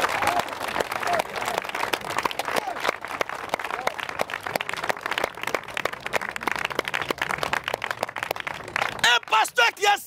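Crowd at a Christian gathering applauding and cheering for Jesus Christ, with dense continuous clapping throughout and voices calling out near the end.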